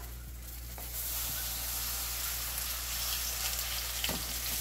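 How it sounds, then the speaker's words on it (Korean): Constant crackling sizzle of food frying in a hot pan, steady and close, with a few faint clinks and no voices. "지글지글 부치기 소리가 너무 맛있어."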